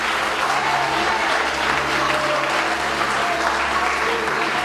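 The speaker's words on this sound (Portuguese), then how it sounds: "Pode aplaudir, adorar e glorificar." A church congregation applauding together during a sermon, a steady, dense wash of clapping that stays loud and even throughout with no pauses.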